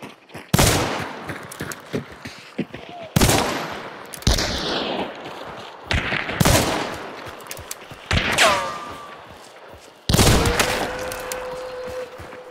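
Repeated bursts of video game gunfire, loud and close, coming in several separate volleys of rapid shots spread across the stretch with short gaps between them.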